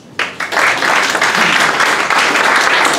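Loud, dense applause from an indoor audience at a public talk in Bologna, starting abruptly and sustaining as continuous close clapping for the whole stretch.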